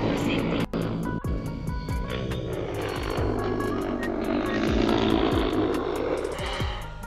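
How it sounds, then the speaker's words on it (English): A DJI Agras T50 agricultural spraying drone taking off, its loud propeller whine rising and shifting in pitch as the rotors spin up, steady and near throughout, with a few sharp clicks early on. "And when the drone takes off, you can see it go to that first connection point"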